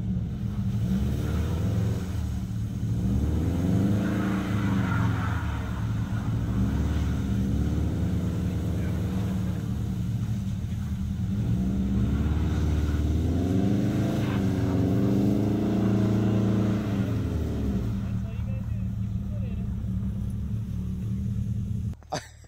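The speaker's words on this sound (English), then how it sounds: "I keep just spinning tires, so I'm gonna try it very, very slow, keep the tires from spinning too fast." Car tires spinning in snow as the vehicle tries to drive very slowly, a continuous engine rumble with repeated rising and falling revs, close and loud for most of the stretch.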